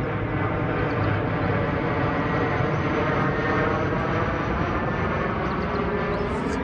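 A loud, sustained airplane engine drone fills the whole stretch, steady and close, with a low rumbling hum and no pauses.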